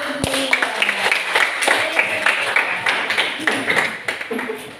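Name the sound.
class clapping hands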